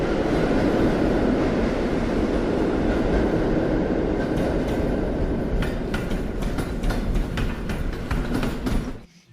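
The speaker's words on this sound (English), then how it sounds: "you hear the train actually moving across the room" A recorded train rumbles steadily through a Holocaust sound installation, a loud continuous roar with rhythmic wheel clacks building in the latter half before cutting off abruptly.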